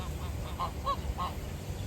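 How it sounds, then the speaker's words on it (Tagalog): Several short honks from a large flock of geese in a park, spaced irregularly over a steady low rumble of outdoor background noise, moderately distant. "Mga gansa. Ang dami nila."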